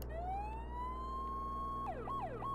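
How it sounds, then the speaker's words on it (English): A police car siren in the Flashing Lights emergency-services game: a steady rising wail that switches to a fast alternating yelp near the end, loud and alone. "This is the siren."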